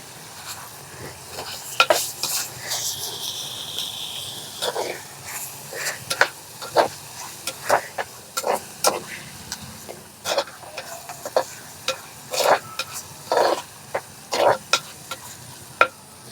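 Sliced onion with turmeric powder frying in an oil-filled pan: a continuous soft sizzle broken by frequent sharp scrapes and clinks of a spoon stirring against the pan, close and fairly loud.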